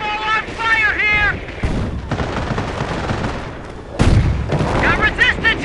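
Battle gunfire and explosions from the real-time strategy game Company of Heroes, dense bursts and booms mixed with shouted soldier voice lines and radio chatter throughout.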